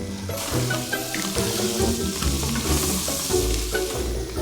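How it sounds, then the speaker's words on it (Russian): Fried vegetables and crushed garlic sizzle loudly in a kazan for a pumpkin dish, with a steady hiss of hot oil broken by repeated scraping and clattering strokes of a stirring spoon close by. "Выдавите 3-4 зубчика чеснока и добавьте в эту зажарку. А теперь самое время все перемешать."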